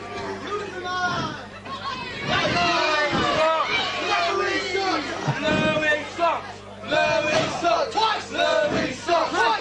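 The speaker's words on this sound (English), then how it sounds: "And Louis sucks chants going out here." Wrestling arena crowd chanting in unison with loud, rhythmic shouting and cheering that swells and repeats throughout, a dense roar of many voices filling the space.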